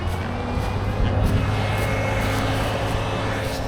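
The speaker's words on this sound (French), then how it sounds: "je reprends mon tracteur" Farm tractor engine running steadily at close range, a low, even droning rumble with a constant hum and no pauses; the tractor is hauling a tipping trailer.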